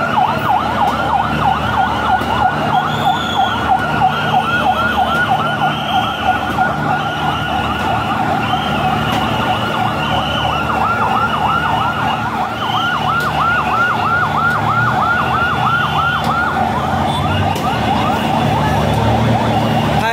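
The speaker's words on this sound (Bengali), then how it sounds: "দেখতে পাচ্ছেন ফায়ার সার্ভিসের গাড়ি কিন্তু ইতিমধ্যে চলে আসছে" Fire service vehicle sirens wail continuously as fire trucks arrive at a burning garment factory in Ashulia, Savar, with repeating rising-falling tones over steady traffic rumble, loud and close throughout.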